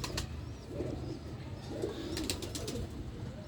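A black male pigeon coos in low bursts among other birds, with wing flaps and scratchy noise in a busy loft.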